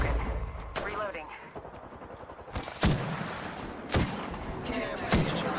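Gunfire from the video game Apex Legends, with several sharp shot bursts spaced through the stretch over a dense, busy game background, alongside automated in-game announcer voice lines.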